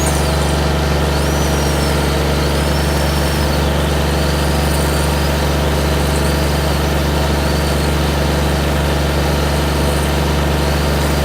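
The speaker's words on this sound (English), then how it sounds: "And that's with the Oregon electric chainsaw, and they're really quiet for your neighbors." An Oregon 40V PowerNow battery electric chainsaw runs steadily through the whole stretch, a constant motor whine with a low hum underneath and no gaps or pauses, fairly loud and close, with no talking.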